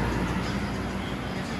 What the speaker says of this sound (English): The compressor came on.